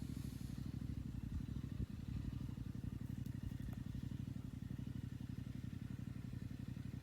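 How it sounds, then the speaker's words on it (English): Motorbike engine outdoors, a low, steady, rapid putter and rumble that holds through with a slight swell, fairly faint and distant, no talking. "Oh, it's a motorbike, right?"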